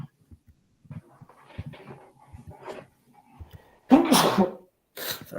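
A single loud sneeze bursts out close by after a stretch of faint, scattered background noises, followed a second later by a shorter second burst.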